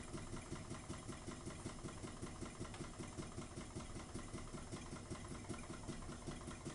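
A Ringbom Stirling engine, hot and powering a set of 20 large LEDs, runs at a steady speed with a continuous, even mechanical chugging that pulses rhythmically throughout, close and fairly loud with no talk.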